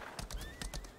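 Hooves clip-clop in quick, close steps while a horse whinnies briefly over them, from a mount in the online fantasy game Lost Ark.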